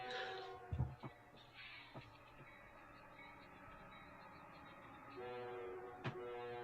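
A westbound freight train passing through Belle Plaine in early morning daylight, a steady rumble of rolling railcars with a few sharp clanks and a brief horn tone, heard at a distance.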